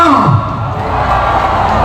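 A crowd at a political aid-giving rally in Cavite, Philippines, shouts and cheers loudly and continuously, a dense roar of many voices close by.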